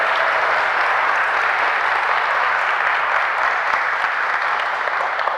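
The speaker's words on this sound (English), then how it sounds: "Give her another round of applause as she comes." An audience at a talk gives a host a round of applause, a dense, loud, steady clapping that continues without pause throughout.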